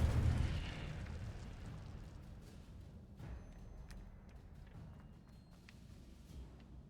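A fiery rumble and crackle from the Incendio fire spell in Hogwarts Legacy opens with a loud burst at the start, then fades into a sustained low roar with light crackles.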